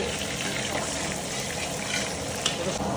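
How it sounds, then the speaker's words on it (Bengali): Cinnamon, cloves and whole cumin sizzle and crackle in hot oil in a pan, a steady close frying hiss running throughout with a few brief sharper pops near the end. "দারচিনি লবঙ্গ চলে গেল আস্ত জিরে।"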